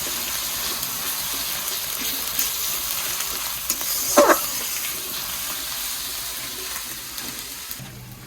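Onion and garlic paste fries in oil with a steady, moderate sizzle that runs throughout, broken by a brief scrape or stir midway; no one speaks.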